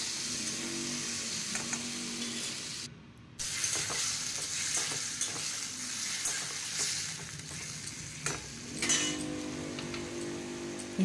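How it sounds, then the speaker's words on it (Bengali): Tomato and ginger paste frying in a pan, giving a continuous close sizzle with scraping stir strokes. The sizzle drops out briefly near three seconds, then carries on steadily. "টমেটো আর একটু আদা পেস্ট আমি দিয়ে দিলাম। 2 মিনিট মতো আমি একটুখানি কষে নেব।"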